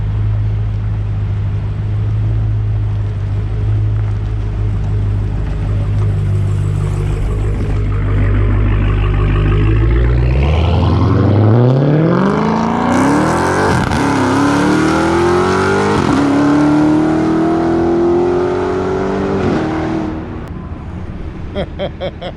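A Dodge Hellcat idles with a deep rumble, then pulls out of an impound yard and accelerates hard, its engine climbing through loud rising revs with gear changes before easing off, close by and with no talking.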